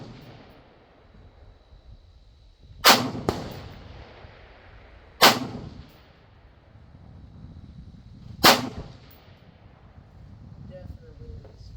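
Three loud, sharp rifle shots fired at a 1-inch range target through a Trijicon 1-8 LPVO, spaced a couple of seconds apart, each with a short ringing tail over a quiet outdoor background.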